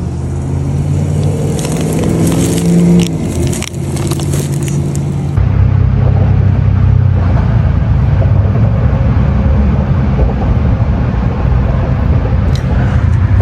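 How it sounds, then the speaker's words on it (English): Steady roar of cars passing on a highway right nearby, a loud continuous wash of traffic noise that swells partway through, heard outdoors in Texas Hill Country at night. "There's a lot of cars right next to the highway,"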